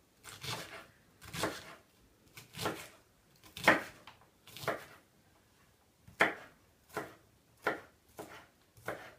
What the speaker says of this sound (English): Usually when I'm chopping an onion